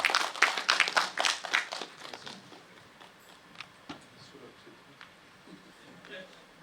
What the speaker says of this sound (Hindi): एक बार जोरदार तालियां फॉर पंकज त्रिपाठी जी।